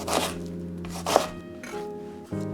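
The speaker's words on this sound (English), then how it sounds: "First, we chop the onion into small pieces." A few crisp knife chops through an onion on a cutting board, spaced apart, close and fairly quiet, with a faint steady hum behind them.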